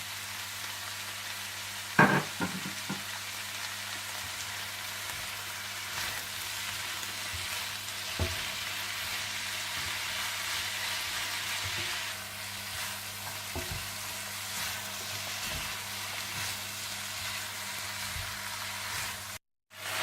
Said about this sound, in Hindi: आप इसमें डाल दें व्हाइट पेपर पाउडर, नमक, ओइस्टर सॉस और सोया सॉस डालकर अच्छी तरह से मिला लें।